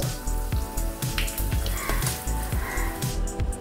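Mustard seeds and asafoetida crackle and sizzle in hot oil for a Goan taro-leaf curry tempering, a steady close frying hiss dotted with tiny pops.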